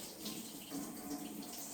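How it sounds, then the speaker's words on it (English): Tap water runs steadily into a kitchen sink while items are rinsed before making corn chowder, a continuous broadband splash at moderate level with slight fluctuations and no talking. "let me just rinse these off real quick"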